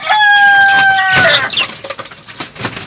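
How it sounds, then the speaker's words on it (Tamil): A rooster crows loudly and close by at a backyard hen coop, a long harmonic call that breaks off partway, followed by softer clucks and scattered farmyard noise. "சேவல் மாறி மாறி குவிட்டே இருப்பாங்க"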